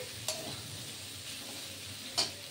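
Boiled potato pieces frying in a pan for samosa filling, a low steady sizzle broken by two sharp spatula clinks against the pan.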